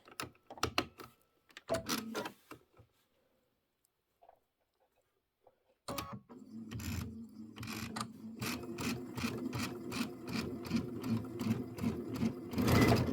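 A sewing machine piecing quilt blocks starts and stops in short bursts, then settles into a steady, close mechanical whir with rapid needle ticking and a few handling clicks.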